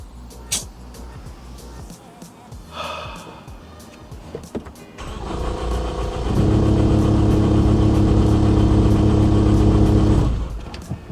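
A Ford Focus ST that is out of gas is cranked but fails to start, giving a loud steady whirring crank of several seconds after some quieter background noise, with no catch or roar.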